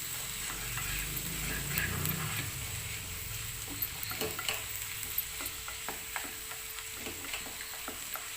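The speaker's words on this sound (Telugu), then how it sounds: "ఇప్పుడు మొత్తం ఫ్రై చేసుకుంటూ ఉండాలి." Sliced bitter gourd (kakarakaya) fries in a pan at home, a soft steady sizzle broken by scraping, clicking spatula strokes as it is stirred, close and fairly quiet with no talk.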